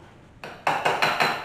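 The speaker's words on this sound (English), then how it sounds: "I'm gonna scrape off my pastry cutter here" A pastry cutter knocked and scraped clean against a bowl while making guacamole, giving a quick run of four or five sharp metallic taps close up after a short quiet start.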